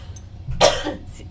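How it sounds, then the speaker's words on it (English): One sharp single cough bursts out close to the microphone, with a faint throat sound before it and a short fading tail after. "See how I can cough away?"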